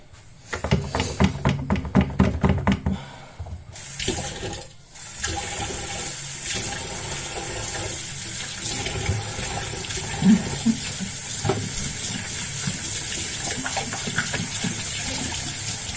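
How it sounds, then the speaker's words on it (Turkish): Tap water runs in a kitchen sink while dishes are washed. Rhythmic splashing and sloshing come first, then a short pause, then a steady, close stream of running water with occasional faint clinks. "şu bir tezgahın içindekileri bir yıkayı vereyim"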